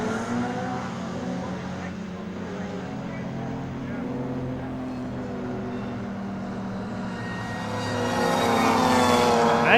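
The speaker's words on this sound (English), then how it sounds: "There you hear that incredible whine of that supercharger" Tom Robinson's supercharged race car at Mallory Park screams past with a loud, high supercharger whine over its engine roar, the sound swelling and rising in pitch near the end as it closes in.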